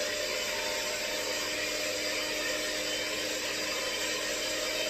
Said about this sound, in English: So whisking the egg whites.